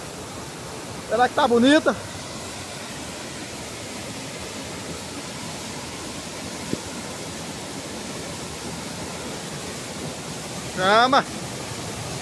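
Antonico waterfall in green countryside, its soft, steady far-off rush filling the whole stretch while someone speaks briefly at the start and again near the end.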